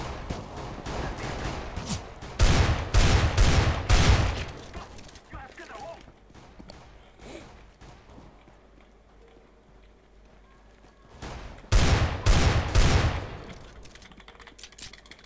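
Rapid automatic rifle fire in Counter-Strike: Global Offensive as teammates are shot down: two loud, close bursts of clustered shots separated by quieter stretches of footsteps and faint game sounds.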